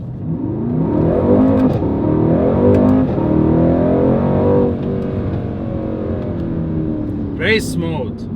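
A 2019 Mercedes-AMG C63 S Coupe facelift engine revs in race mode, loud and close, its throaty note swelling and easing steadily for several seconds, with a brief sharp whine near the end.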